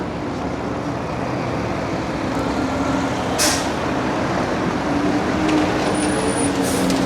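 A truck turning right on a dusty industrial street in Toronto's Port Lands gives a short sharp hiss of air brakes partway through, over steady loud road and traffic rumble.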